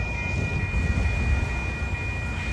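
Amtrak Coast Starlight train #11, hauled by two ALC-42 Charger locomotives, rumbles past close by on a rainy day in Oakland, a steady loud roar with a faint high tone above it.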